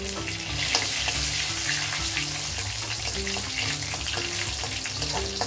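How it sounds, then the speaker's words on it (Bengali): Dried red chili, a bay leaf and panch phoron fry in hot oil in a home kitchen, a loud continuous sizzle with faint stirring clicks and a steady hum underneath, no voices. "ভালো করে দেখুন 5 ফোড়ন, শুকনো লঙ্কা, তেজপাতাটা ভেজে নিয়েছি"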